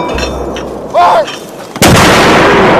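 Gunfire from a military task breaks out after a shouted order to fire: a short burst near the one-second mark, then a loud, sustained blast that fills the last second, with yelling voices around it.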